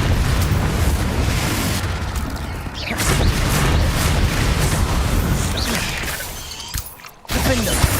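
Confringo fire spell blasts in Hogwarts Legacy, a loud, roaring, crackling barrage of bursts and booms that dips briefly to near silence shortly before the end, then bursts back in.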